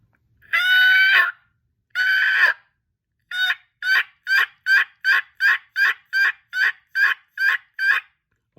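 Turkey yelps made with a latex mouth call, two longer raspy notes followed by a rapid, evenly spaced series of about a dozen yelps, close and clear with no other sound.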